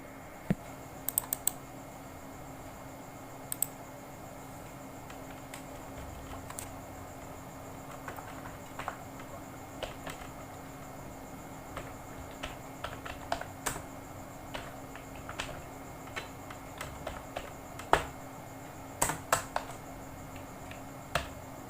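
Keys clicking on a computer keyboard while text is entered into a Microsoft Word document, sparse and irregular taps over a steady low background hum, with short flurries of quicker presses.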